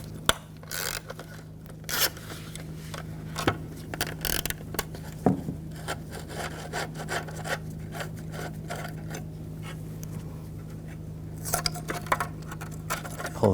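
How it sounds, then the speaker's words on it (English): A T20 socket on a ratchet backs a screw out of the HID ballast control module on a 2000-2006 BMW X5, giving close, irregular clicks, ticks and scrapes over a steady low hum. "We're going to take this screw out right here. Use a T20 socket."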